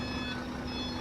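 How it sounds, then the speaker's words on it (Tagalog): A Howo truck's backup buzzer sounds while it reverses, a steady loud electronic tone held over the low idle of the engine. "Ayan yung Denso talking horn natin habang umaatras siya. Kasabay nung backup buzzer."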